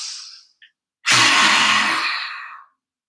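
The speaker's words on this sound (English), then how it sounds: "it's the tongue comes out the mouth, the eyes are really wide, and this sound with the throat" A single forceful lion's breath exhale in yoga, tongue out with a rough throat sound, loud and close, starting with a sharp onset and trailing off over about a second and a half, after a brief nasal inhale.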